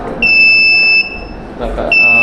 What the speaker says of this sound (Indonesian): buzzer dan yellow akan menyala